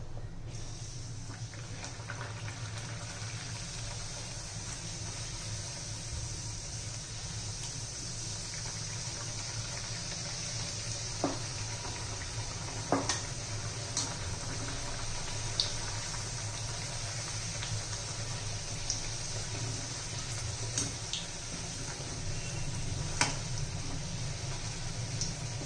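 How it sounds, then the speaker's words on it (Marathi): Masala puris frying in hot oil over a medium flame give a steady, even sizzle with occasional small pops and crackles, close by and continuous, with no voices. "तरी मध्यम गॅसवर तळत आहे मी"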